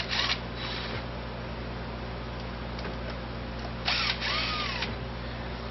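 A power tool undoes thermostat housing bolts on a car engine, with two short whirring bursts near the start and end separated by a steady background hum.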